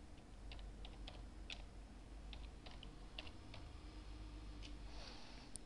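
Typing on a computer keyboard, a quiet run of irregular light key clicks and taps, some in quick bursts, over a low steady room hum with no voices.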